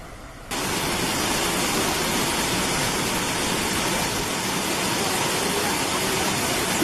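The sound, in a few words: Sundarijal waterfall in Nepal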